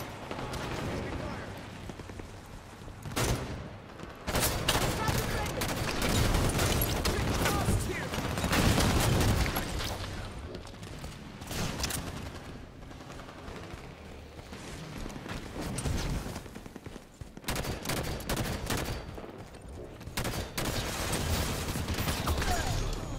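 Bursts of gunfire and explosions in a Halo 5 Guardians Warzone match, rapid volleys and booming blasts rolling almost continuously, with players talking over the combat.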